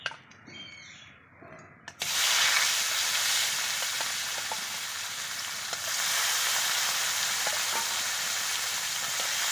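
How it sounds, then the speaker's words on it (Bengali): Fish fries crisp in hot oil in a pan, a dense continuous sizzle that swells after a short quieter opening with faint stirring clicks. "আর এখানে মাছটা কিন্তু আমি একটু কড়া করে ভেজে নেব।"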